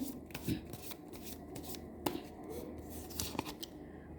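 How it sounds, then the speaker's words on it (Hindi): Tarot cards are shuffled and one is drawn, giving soft riffling and quiet papery flicks with a few sharper snaps, faint and close in a quiet room. "मैं एक कार्ड आपके लिए निकालती हूँ।"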